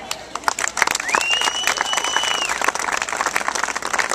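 Applause from an audience at a Relay for Life survivor speech, steady rapid clapping throughout, fairly loud, with a faint rising whistle-like tone partway through.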